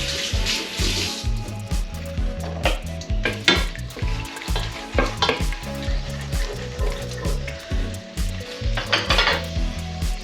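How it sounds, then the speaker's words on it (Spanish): Dried ñora peppers fry in oil in a pan for a fish rice dish, giving a steady sizzle broken by repeated stirring scrapes and utensil clatter, close and busy with no voices. "Rebajamos para que se frían sin que se nos quemen."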